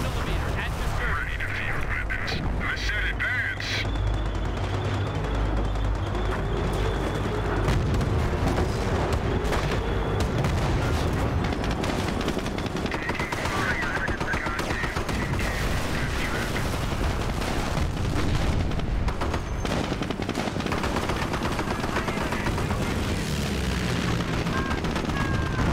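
A 57 millimeter anti-tank gun fires repeatedly on a Company of Heroes battlefield during the St. Fromond campaign mission, booming shots mixed with gunfire, explosions and dense combat noise, with voices talking throughout.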